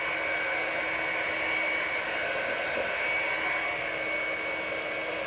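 A Revlon One Step hair dryer blows steadily at close range, a constant loud broadband whoosh with a faint high whine, running without pause and no voices.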